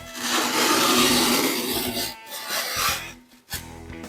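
Chamfer plane shaving the edge of a gypsum drywall board, a loud dry rasping scrape for about two seconds followed by shorter, fainter strokes and brief pauses, no talking.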